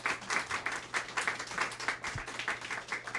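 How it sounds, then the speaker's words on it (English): An audience at a school outreach event applauds for an elementary school principal, with light, fairly quiet clapping that holds steady across the whole moment. "How about a round of applause for our principal here, Principal Lee?"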